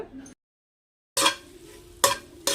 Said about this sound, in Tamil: ஸோ அப்பப்போ ஓப்பன் பண்ணி பார்த்துட்டு நல்லா கிளறி கொடுத்துக்கோங்க